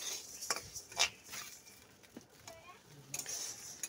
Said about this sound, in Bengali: আর আমি এখানে চালগুলো আস্তে আস্তে ভেজে নিচ্ছি